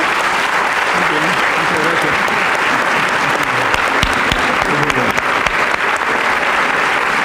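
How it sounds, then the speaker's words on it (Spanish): Audience applause at a conference on liberty given by Mario Vargas Llosa, a steady, dense clapping that fills the room for several seconds, with voices faintly mixed into the ovation. "Queremos brindarles un tremendo aplauso"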